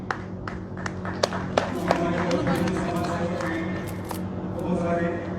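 Audience clapping at a Patanjali Wellness inauguration ceremony in Modinagar, a moderate spread of claps and scattered sharp taps under continuous speech from a host on a microphone.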